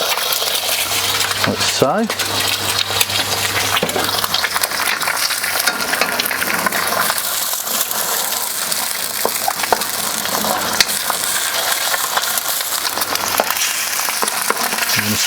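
Eggs fry loudly in a pan on a Kamado Joe grill for egg fried rice, with a constant close crackling sizzle and occasional scraping clinks of a utensil, while a voice speaks briefly.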